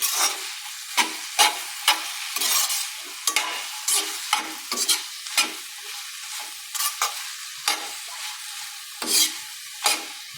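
Okra (ladies finger) is stir-fried with masala powder in a pan, with a spatula scraping and tossing in a quick, irregular rhythm over a light sizzle. The sound is close and dry, with no talking.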